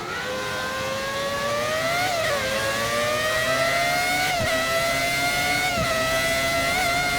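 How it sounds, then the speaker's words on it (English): A Formula 1 car engine from the F1 1999 racing game screams at high revs in a continuous, loud, steady tone with slight pitch shifts through gear changes, heard alone. "I know a lot of you want to hear the sound of this car, because it sounds really amazing as Irvine's coming into the last corner."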